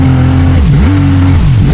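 A second-hand jet ski's engine is revved hard, very loud and close, its pitch surging and dipping twice in quick succession.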